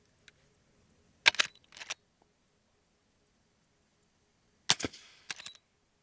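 Suppressed big-bore rifle shots through a Lonestar silencer outdoors, two pairs of sharp, deep-toned reports with short decaying tails, separated by quiet gaps and heard alone.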